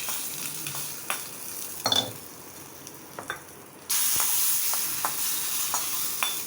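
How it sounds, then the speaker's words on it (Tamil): Asafoetida is dropped into hot tempering oil in a Tamil kitchen while making a banana stem chutney. A faint crackle gives way to a sudden loud, steady sizzle that carries on, broken by small pops and clinks. "இந்த சூட்டில் கொஞ்சம் பெருங்காயம் இதில் கொட்டிட வேண்டியது."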